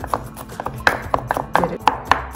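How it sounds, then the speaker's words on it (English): A knife taps rapidly on a cutting board while food is chopped finely for meatballs and spaghetti sauce, quick uneven knocks close by. "we're just gonna chop that up finely"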